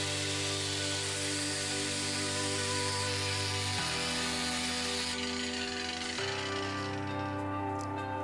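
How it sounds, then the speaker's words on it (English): Power tool grinding surface rust off an old wood stove that sat in an unheated house, a steady loud whine that shifts pitch twice, with no talking. "we've got to grind some rust."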